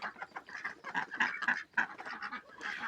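Ducks quack in a cage in a busy, overlapping chorus close by, a steady stream of short nasal calls without any talking.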